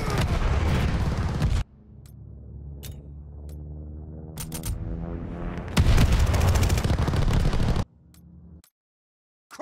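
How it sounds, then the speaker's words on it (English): Heavy explosions and shots from glide bombs and gunfire in a shooter game, with sudden loud bursts that cut off into quieter ringing stretches, then a sharp crack and a final burst before silence. "Enemy glide bomb coming in hot!"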